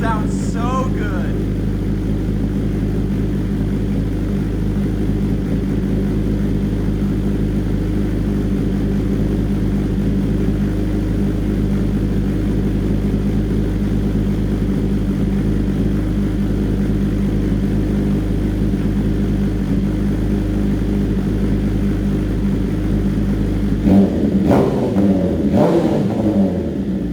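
A 2025 BMW S1000RR sport motorcycle with an aftermarket M4 exhaust idles with a steady, throaty rumble, then revs sharply several times near the end, loud and close.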